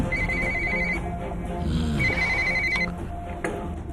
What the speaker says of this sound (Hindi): जल्दी फोन उठाओ, जल्दी।